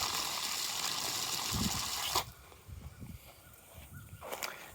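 Water gushes through an irrigation filter during a quick coarse flush in a cotton field, a loud rushing spray that cuts off abruptly, leaving faint trickles and a brief final spurt.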